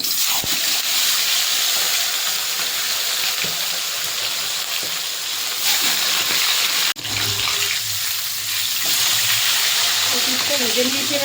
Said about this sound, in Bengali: মাছের মাথাটা এবার ভেজে নেব